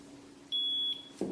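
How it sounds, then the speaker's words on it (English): A single steady high-pitched beep of about 0.4 seconds from a YR1035+ lithium battery internal resistance tester, signalling a cell that passes, over low background hum. "If it's one beep, then the cell is good"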